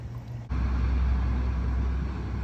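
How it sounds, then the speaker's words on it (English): Sump pump sucking duckweed and water from a pond kicks in abruptly, then keeps up a steady close low motor drone and rushing hum throughout. "The sump pump is doing an excellent job here to suck in the duckweeds"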